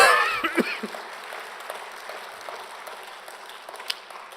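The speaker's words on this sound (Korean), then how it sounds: "자, 박수랑 경광 돌리겠습니다." A church congregation claps during a Palm Sunday service, starting as a burst of applause with voices over it and thinning out to scattered claps within a few seconds.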